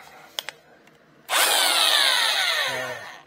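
An impact-style power tool spins off the 22 mm lug nuts from a mag wheel on a 2010 Kia Soul, a loud close whirring burst of about two seconds following a couple of faint clicks.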